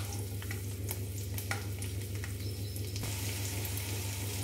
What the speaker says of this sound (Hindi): इसको हम इसी में डाल देते हैं और इसे हम हल्का सा भून लेते हैं।